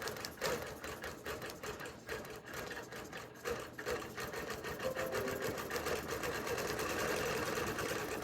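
An embroidery sewing machine stitches a design in a steady, fast, continuous mechanical chatter, loud and close, with no talking.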